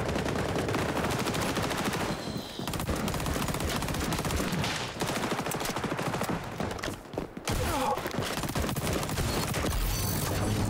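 Rapid automatic gunfire rattles through a Call of Duty firefight, dense bursts of shots fired from the hip running almost nonstop, loud and close, with a brief lull midway before the shooting resumes.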